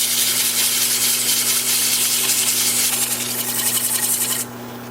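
An old abrasive disc rasps steadily against a spinning wood-turning practice piece on a lathe, a close continuous scratchy hiss over a low motor hum, ending abruptly as the sanding stops.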